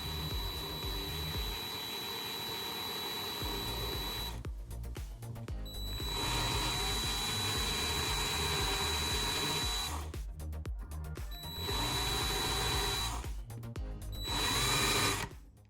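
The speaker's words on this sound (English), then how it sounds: "So now we're gonna countersink it with a bigger drill bit." A power drill with a larger bit countersinks a screw hole in a WPL LCG RC crawler build, whining steadily in three long runs broken by brief pauses, loud and close throughout.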